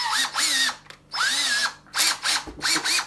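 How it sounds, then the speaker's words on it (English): A power drill fitted with an 8.5 millimeter bit bores a hole near the bottom of a container for a backyard chicken water supply, whining up and down in several loud bursts with short pauses between. "we're gonna drill a hole fairly close to the bottom"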